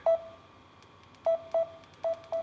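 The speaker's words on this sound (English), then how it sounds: "let's see if these buttons work" Phone buttons on a Samsung A71 inside a rubber waterproof case are pressed, giving five short, clear electronic beeps, one alone and then two pairs, over a quiet background.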